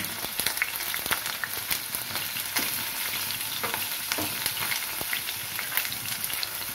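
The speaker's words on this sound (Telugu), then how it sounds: "పచ్చిమిర్చి వేద్దామండి." Green chillies sizzle and crackle in hot oil in a pan for a tomato cashew curry, a steady close frying hiss with scattered pops and stirring scrapes, no talking.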